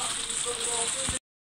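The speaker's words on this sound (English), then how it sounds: "you can hear more of the rain here" Rain drums on the glass roof of a home conservatory, a steady close hiss and patter that holds evenly for about a second before cutting off abruptly.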